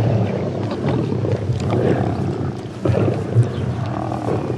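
A pride of lions feeds on a kill, with teenage males shoving their way in; deep, rough roars and growls rise repeatedly over a continuous rumbling snarl, close and loud.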